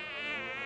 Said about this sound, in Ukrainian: Знову комарище втнув, та такий здоровий.